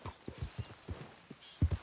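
Horse hooves clip-clopping at a walking pace in Red Dead Redemption 2, a series of soft, low thuds spaced irregularly, with a louder pair of hoofbeats near the end.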